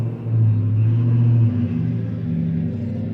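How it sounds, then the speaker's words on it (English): A car passes by outdoors, a steady low engine rumble swelling and then fading over a few seconds, fairly loud and heard alone. "the fantastic car just drove past"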